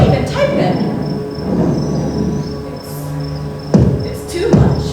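Thunder rumbles through a solo stage performance as a low, rolling roar that swells and fades, with a couple of sharper cracks near the end and chirping insect-like tones underneath.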